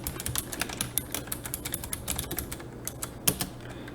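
Fast typing on a computer keyboard: dense, crisp key clicks in an uneven rhythm, close and alone, with one heavier keystroke near the end.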